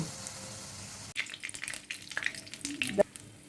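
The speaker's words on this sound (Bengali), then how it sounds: "এভাবে ছেড়ে দেব, দিয়ে এক পিঠ ভাজা হলে আর এক পিঠ উল্টে দেব।" Palm fruit fritters frying in oil: a quiet hiss, then a sharp drop into the pan followed by bubbling crackle and small clattering stirs.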